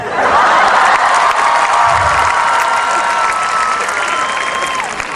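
A university auditorium audience at a comedy show bursts into loud, sustained applause and cheering, a dense wash of clapping filling the room with a few shouts mixed in.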